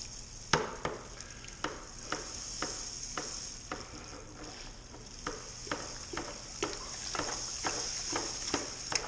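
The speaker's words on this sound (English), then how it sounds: "We'll just stir this in slowly here that we don't get a dough ball." Brewing grain being stirred slowly into mash water during dough-in for a blueberry saison, with repeated scraping and knocking strokes at an uneven rhythm over a steady hiss, close and moderately loud.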